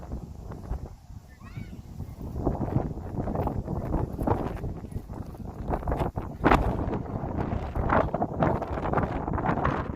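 Steady wind buffets the microphone with a constant rumbling roar on a disc golf course in light rain, with occasional gusts and faint distant sounds beneath.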